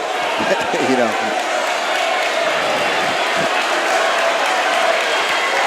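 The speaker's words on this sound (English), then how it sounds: "Mustafa getting an applause from the crowd as that foul shot hit the left side of the backboard." Crowd applause fills a high school basketball gym after a foul shot, a steady broadband wash of clapping with a few ball bounces early on and a commentator talking over it.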